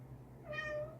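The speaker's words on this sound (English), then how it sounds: "yeah, that's my cat." A pet cat gives a single short meow indoors, faint and fairly close, rising over a low steady background hum.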